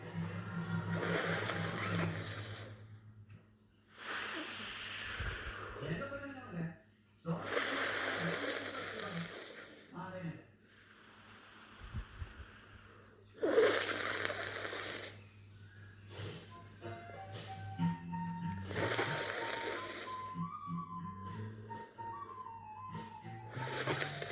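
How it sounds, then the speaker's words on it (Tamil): Slow, deep breaths in and out during a breathing exercise done to lower blood pressure. Close, hissing airy bursts repeat at regular intervals of a few seconds, with quiet pauses between them and a faint voice near the end. "உள்மூச்செடுத்து வெளிமூச்சு விடுவோம்."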